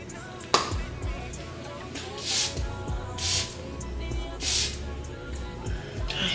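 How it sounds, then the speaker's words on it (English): Several short hissing bursts of airbrush makeup setting spray repeat at a steady pace over a faint background, each lasting about a second. "I like to put on my airbrush setting spray first."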